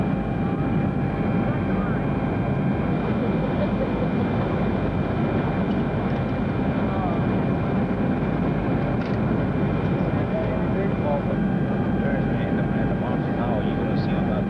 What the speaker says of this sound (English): Flying from Florida down to Costa Rica. And now we're coming in to San Jose.